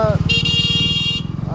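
A shrill, sustained vehicle horn blares for about a second over a running motorcycle engine, loud and close.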